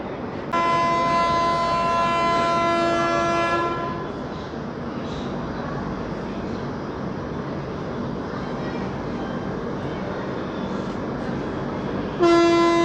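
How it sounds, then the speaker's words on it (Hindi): A Patna–Kota express train sounds its horn before departing on a monsoon journey: one long, steady blast of about three seconds, then a continuous rumble, then a brief second toot at the end. "हमारी ट्रेन का विजिल हो गया है, अब ट्रेन चलने को तैयार है।"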